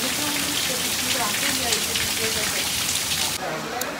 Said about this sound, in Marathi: किती पाऊस पडत आहे, जाता येईल का माहीत नाही अजून